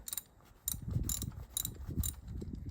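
A ratchet socket wrench clicks in short bursts while working old, stiff bolts loose on a 2006 Acura TSX, close up and fairly quiet, with no speech.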